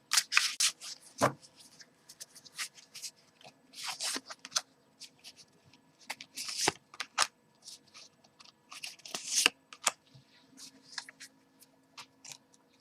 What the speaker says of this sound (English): I'll pull three cards.